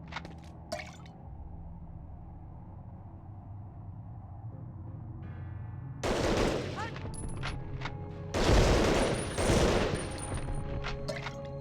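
Gunfire and explosions from the Medal of Honor Underground video game burst out in two loud clusters after a quieter stretch of low background hum, with sharp bangs and crackling.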